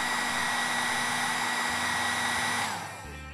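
A hair dryer blows steadily nearby as it heats a vinyl skin on an AK-47 magazine, a loud constant whir that drops off and winds down near the end.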